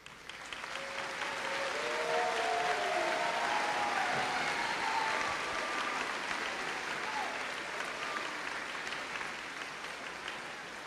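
A graduation audience applauds steadily and evenly for cum laude graduates at a high school ceremony. The clapping is dense and fairly distant and lasts about eleven seconds, with faint cheers rising through it.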